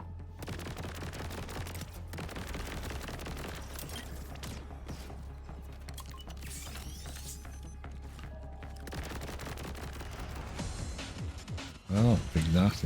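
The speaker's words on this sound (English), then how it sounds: "Oh, the big ship's firing at me now too." A big enemy ship firing in Borderlands 4, steady rapid gunfire and mechanical rattling over a low droning hum, with scattered impacts and a sharp burst near the end.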